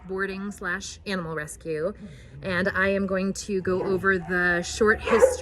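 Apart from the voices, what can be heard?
None of the usual background noises is heard.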